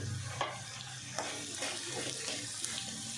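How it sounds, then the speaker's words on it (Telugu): Cucumber pieces frying in hot oil give a constant close sizzle with occasional scrapes and stirring knocks, moderately loud and unbroken, with no voices. "ఒక 2 మినిట్స్ ఇలా ఫ్రై చేసేసుకుంటే సరిపోతుంది ఆయిల్లో"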